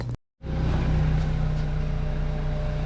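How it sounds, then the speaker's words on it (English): After a brief pause, a BMW 3 Series (F30) engine fitted with an MST inlet pipe fires up and settles into a steady, even idle that hums on close by with no voices. "I'm gonna go ahead and start the car now"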